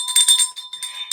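A bright electronic bell chime rings out clearly in a few quick, shimmering strikes with a sustained ringing tone, a short notification-style sound effect heard on its own.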